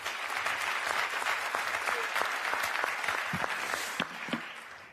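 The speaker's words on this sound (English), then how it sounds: "and a round of applause," Audience at an economic forum in Brussels breaking into sustained applause, a dense patter of clapping that thins toward the end.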